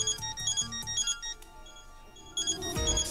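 A phone rings in the video game Death End Re;Quest 2, with a short series of repeated electronic ringtone tones that then give way to other game sounds.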